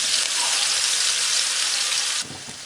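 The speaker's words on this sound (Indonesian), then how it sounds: "ini mau kita gongsong pakai minyak bekas goreng ikan tadi" Spice paste is stir-fried in used fish-frying oil, making a loud, steady, close sizzling hiss that drops suddenly in level near the end, with no voices.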